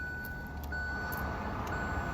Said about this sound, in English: there's a bunch of cars outside.